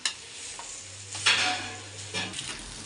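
Chicken noodles are stirred in a hot pan, with soft scrapes and clinks of a utensil over a light sizzle, a few louder strokes standing out, plus a brief low hum.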